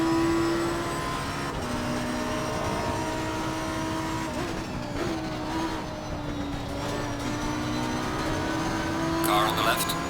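Race car engines drone steadily in Assetto Corsa Competizione, a sustained tonal whine with shifting pitch as cars pass, running throughout with a few brief revving swells near the end.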